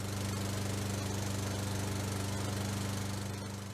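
A lawn mower runs in a continuous loud, steady motor drone with a rough buzzing texture, close by, with no voices over it.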